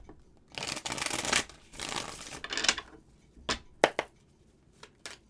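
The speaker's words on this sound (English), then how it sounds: "One more shuffle here." Tarot cards shuffled by hand in bursts of crisp riffling and papery rustle, followed by a few sharp taps and squared-up clicks as the deck settles, close and fairly quiet with no talking.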